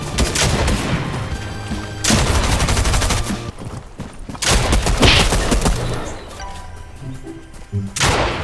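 Gunfire in the video game Fortnite comes as loud rapid bursts of automatic shots with brief gaps between volleys, close and dense, with faint voices now and then between them.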